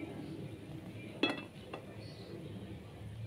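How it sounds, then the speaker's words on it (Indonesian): A pot of sambal terasi is stirred and covered with its lid in a quiet kitchen, giving one sharp metallic clink followed by a softer second knock against a low background hum. "Kita bolak-balik lagi dan ditutup kembali."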